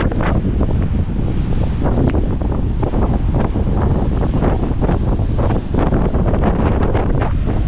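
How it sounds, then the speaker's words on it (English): Strong wind buffets the microphone while heavy ocean surf crashes on a stormy Outer Banks beach, a loud, continuous roar with no voices. "And that wind is something else."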